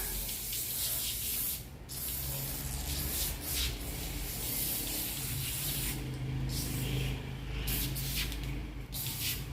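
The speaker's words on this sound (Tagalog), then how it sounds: "Mayroon tayong i-spray nito para mawala." Odor spray hissing into a motorcycle helmet to clear a bad smell, a close, steady aerosol spray running in long bursts with brief pauses, with no talking over it.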